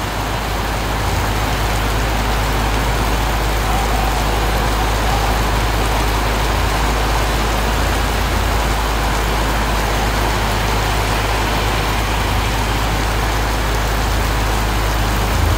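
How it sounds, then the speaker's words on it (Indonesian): Heavy rain pours steadily over a bus terminal, a dense, continuous hiss with the low rumble of idling vehicles underneath, loud and unbroken throughout. "menikmati suasana hujan di terminal"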